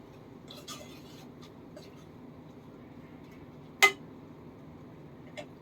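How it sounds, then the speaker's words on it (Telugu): Halim with garam masala being stirred in a cooking pot, mostly quiet with faint scraping and a few light metallic clinks, one sharp clink of the spoon against the pot standing out near the end. "ఒకసారి మళ్ళీ అంతా మిక్స్ చేసేసుకుందాం."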